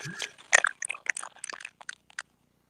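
Someone crunching and chewing chips close to a microphone, a burst of crisp bites followed by steady, irregular chewing clicks that taper off into silence.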